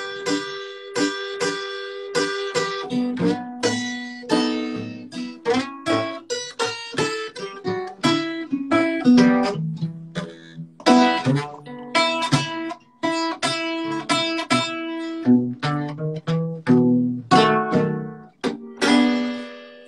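A solo guitar plays a slow, loose Chicago blues phrase, notes ringing and sliding with laid-back, behind-the-beat timing, close and clear with no voices.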